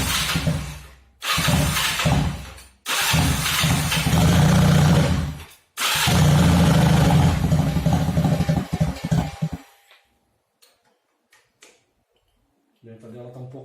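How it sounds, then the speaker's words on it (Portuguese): A Fym FY250 motorcycle with a newly installed Ecco carburetor starts and runs loudly close by in several bursts separated by short gaps, then cuts out to near silence before a faint low rumble returns; someone speaks over it. "liguemos a motoca e faremos agora a regulagem, pelo menos da lenta dela"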